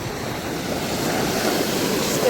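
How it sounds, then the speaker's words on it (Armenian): Steady wash of sea waves breaking on a shore, a continuous loud rushing surf with wind noise and no voices. "հավես ալիքները"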